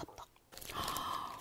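Close, quiet bites and chewing of a sticky ramie-leaf rice cake: soft crunches and moist mastication sounds, with faint breathy vocal sounds around them.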